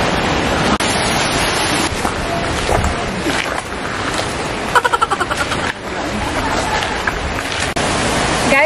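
Rushing creek water in a forest near a lookout, a steady broadband wash that fills the whole stretch, with a few brief knocks and clatters partway through.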